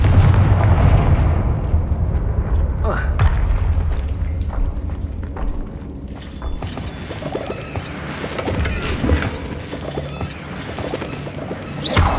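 Confringo spell blasts in Hogwarts Legacy, loud booming explosions with crashing debris, a heavy rumbling barrage early on followed by several sharper separate bursts.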